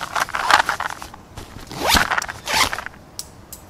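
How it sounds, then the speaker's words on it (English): A zipper on a pocket of a survival gear bag is pulled in a few quick close rasping strokes, with short pauses and light rustling between them. "there goes the zipper pull"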